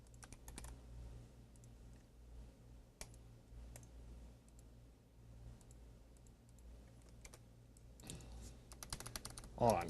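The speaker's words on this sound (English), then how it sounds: "This is a typing test." Typing on a computer keyboard connected to a remotely controlled DOS PC, with soft, scattered key clicks over a low steady hum and a denser burst of keystrokes near the end.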